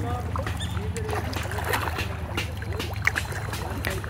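A small wooden boat paddled through water, soft sloshes and splashes of the paddle with a gurgling trickle along the hull, over a steady low hum, close by.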